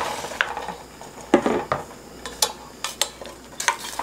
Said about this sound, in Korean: 줄어들었으면 이제 메추리알을 넣습니다